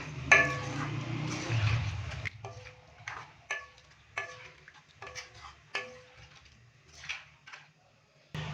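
A spoon stirring fresh cream into white beef korma in a pot, a string of rhythmic clinks and scrapes against the metal at close range, preceded by a brief louder burst of pouring or sizzling.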